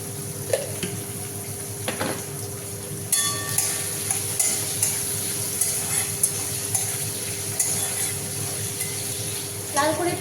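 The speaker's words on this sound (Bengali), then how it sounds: "লাল করে পেঁয়াজ কুচি ভেজে নেওয়ার পরে টমেটোটা দিলাম, তারপর লবণ দিলাম, দিয়ে একটু ভালো করে ভেজে নেবো" Tomatoes frying with salt on top of browned onions, a close sizzle stirred with a metal utensil that scrapes and clinks against the pan now and then, with some voice in the background.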